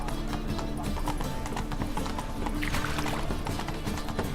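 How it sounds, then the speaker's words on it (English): Hooves of a horse galloping in The Witcher 3 video game, a fast continuous clip-clop rhythm that stays loud and close under game ambience throughout. "Run, Roach."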